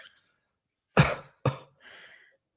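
Two sharp coughs about half a second apart, close and fairly loud, followed by a softer breathy trailing sound, with nothing else in the background.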